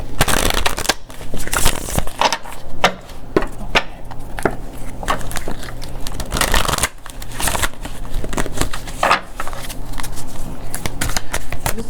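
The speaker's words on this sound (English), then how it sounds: "Bear with me as I shuffle." Loud, continuous shuffling of a large deck of cards with repeated riffles and bridging flutters, close by, with no voices.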